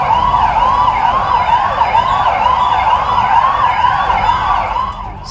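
A police siren wails in repeated rising and falling sweeps during a Delhi Police motorcycle flag march, loud and steady, with no voices, fading slightly at the end.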